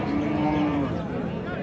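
A cow moos once, loud and close, in a busy Bangladeshi cattle market where animals are haggled over for sale, with the crowd's murmur underneath.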